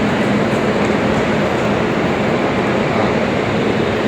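Steady, loud rumble of trains standing and moving at the platforms of Chennai Central railway station, a continuous broadband roar with no clear pauses and no talk.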